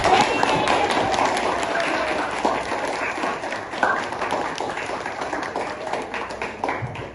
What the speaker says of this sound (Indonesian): Kita beri tepuk tangan untuk kalian semua.